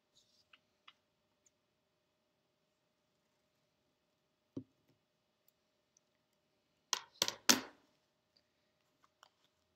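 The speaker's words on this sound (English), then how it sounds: "I'm going to cut these 3 squares in half" Scissors cutting paper squares in half, a few quick crisp snips close by after a single earlier click, otherwise a near-silent room.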